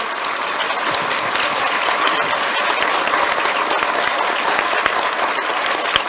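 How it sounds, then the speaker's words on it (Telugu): Audience at a school event in Telangana applauds its teachers, a steady dense clapping that fills the whole stretch, loud and continuous with no talk over it. "ఒక్కసారి గట్టిగా అందరికీ, మీ సార్లందరికీ గట్టిగా చప్పట్లు కొట్టండి ఒకసారి, టీచర్లందరికీ కూడా"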